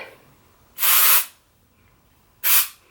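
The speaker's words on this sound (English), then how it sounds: "I'm going to spray it again." Two short aerosol bursts of hair spray, close and loud, the first about half a second long and the second briefer, with near silence between.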